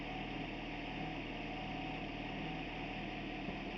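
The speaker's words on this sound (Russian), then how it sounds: "Мотор шепчет, как видите." A homemade engine test stand idles quietly, giving a steady, even hum with no breaks for the whole few seconds and no voices.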